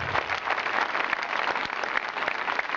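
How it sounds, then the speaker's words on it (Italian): A crowd at a municipal election victory gathering in Policoro claps together in a dense, continuous burst, fairly loud with brief sharper claps poking through. "facendogli un applauso reale tutti quanti insieme"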